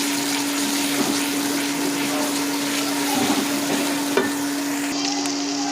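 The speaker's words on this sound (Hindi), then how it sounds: "थोड़ा सा पानी डाल देंगे।" Water hits hot masala in a pan, setting off a continuous loud sizzle with a steady bubbling hiss and a few faint clinks of stirring, no voices present.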